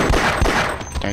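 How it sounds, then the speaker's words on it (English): Gunfire in the video game Half-Life cracks out in a quick burst of several loud shots, close and punchy, over about a second. "Someone's shooting me"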